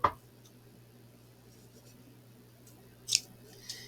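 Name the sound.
snipping something off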